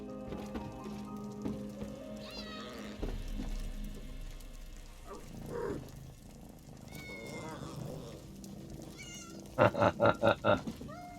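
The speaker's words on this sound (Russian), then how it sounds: "Да, кот интересный." A cat meows several times in The Elder Scrolls Online, with a short burst of rapid, clipped cries near the end that stand out over a steady game music and ambience bed.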